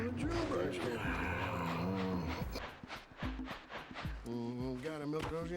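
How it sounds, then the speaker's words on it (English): Yak cows low in the video game Jak and Daxter: The Precursor Legacy, with several deep, drawn-out moos repeating one after another over continuous game ambience. "Gotta milk those yak cows."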